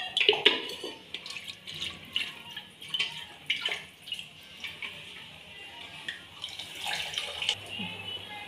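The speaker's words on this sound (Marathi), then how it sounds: "थोडंसं मी गरम पाणी मिसळून टाकते याच्यामध्ये." Hot water is poured into a spicy mutton curry (rassa) simmering in a pan, making close splashing and trickling liquid sounds in uneven bursts, with a brief faint voice.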